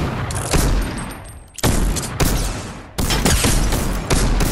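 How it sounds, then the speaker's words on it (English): Pistol shots in the game Fortnite crack out loud and close, four or five sharp reports at uneven intervals with a short decaying tail after each and no talk over them. "there he goes with his stupid pistol"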